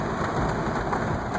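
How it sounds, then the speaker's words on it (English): Rain falls in Charleston, a steady dense hiss of drops that stays constant and fairly loud throughout the short stretch, with no voices over it. "and now it's raining"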